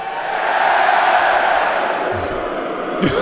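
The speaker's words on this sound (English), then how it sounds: "Are we hearing cheers every time he's on the screen?" A large esports crowd at IEM Sydney 2023 for a pro Counter-Strike 2 event roars and cheers continuously, a dense, loud, sustained wash of voices from a packed arena, with faint shouts poking through.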